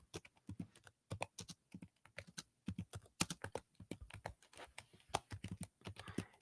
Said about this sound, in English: Let me just type this comment again.